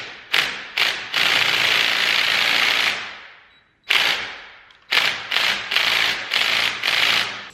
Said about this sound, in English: You can hold the cam with a crescent wrench while you get that front thing undone.